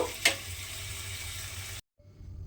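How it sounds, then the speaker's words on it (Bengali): Pumpkin snacks fry in hot oil with a steady, close sizzle and gentle bubbling that runs evenly, then cuts off abruptly before a quieter sizzle resumes. "এইগুলো তেলের মধ্যে দিয়ে আস্তে আস্তে করে ভেজে নিতে হবে"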